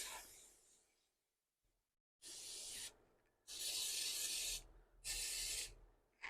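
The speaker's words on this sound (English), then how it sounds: "So I will spray that in my sink so I don't make a mess" Cooking spray aerosol can sprayed into a kitchen sink, three distinct close hissing bursts of about a second each separated by short pauses, after a fainter initial spray.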